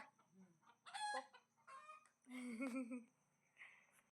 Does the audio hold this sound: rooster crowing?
yes